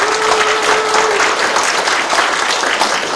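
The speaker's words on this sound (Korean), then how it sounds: "시장님께 감사의 박수 한번 쳐드리면 어떨까요?" An audience at a mayor's community talk event in Baeksa-myeon claps for the mayor, a dense, steady burst of applause filling the whole stretch at close range with a faint tonal hum early on.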